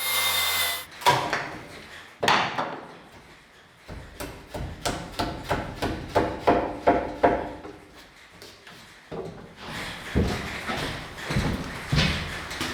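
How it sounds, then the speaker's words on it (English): A framing chisel cutting seat cuts in a timber truss rafter: a steady series of hard, close wooden knocks and chops at a regular rhythm, with a few heavier strikes and some scraping between blows. "cut all of the seat cuts individually and finish them with my framing chisel"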